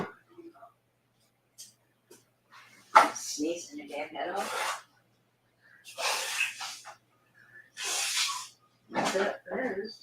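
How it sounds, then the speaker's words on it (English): A person sneezes repeatedly, several sharp bursty sneezes and snorts separated by pauses, close up, with breathy whispering sounds between them. "Sneezing your damn head off."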